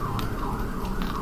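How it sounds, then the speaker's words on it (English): A siren wails in the distance outside, a brief muffled rising-and-falling tone over low background rumble. "I was hearing sirens outside"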